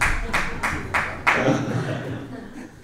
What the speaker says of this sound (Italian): Il timido applauso dice l'orientamento della sala